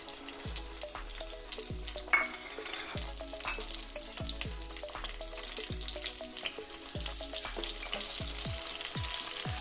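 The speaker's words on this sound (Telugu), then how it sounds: "ఆయిల్ హీట్ అయిందండి. ఇప్పుడు టమాటాస్ వేసుకుందాం." Tomatoes fry in hot oil and butter for home-style paneer butter masala, with a steady crackling sizzle and repeated spatula scrapes and knocks against the pan.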